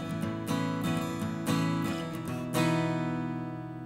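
A guitar plays two alternating chords from a song during a lesson, with several close, clear strums in an even rhythm, a chord change near the end, then a sustained ring that fades, with no talking.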